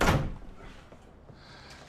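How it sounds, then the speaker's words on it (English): A door is shut with a solid thunk at the start, followed by quiet room tone and small faint movements. "Shut the door, please."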